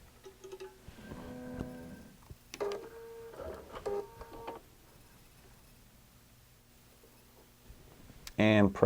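A QBOT V3 drawing robot whirs through a few short, tonal motor moves as it travels to its start point, with stepping pitches rising and falling, followed by a brief loud burst near the end.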